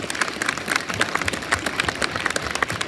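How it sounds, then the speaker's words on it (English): An audience at a school DARE graduation applauds steadily for special guests, a dense and fairly close round of clapping that continues throughout. "If we could give them a round of applause."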